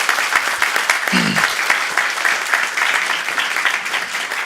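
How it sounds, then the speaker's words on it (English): An audience at a city meeting claps for the newly welcomed city clerk, a dense, steady round of applause from a room of people, with a brief voice briefly audible partway through. "Give a round of applause."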